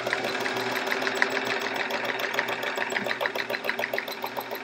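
A domestic sewing machine running continuously during free-motion quilting of a chevron quilt, a close, steady rapid needle chatter with slight speed changes and no talk over it.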